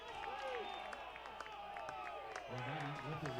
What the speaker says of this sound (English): Billings crowd didn't like it.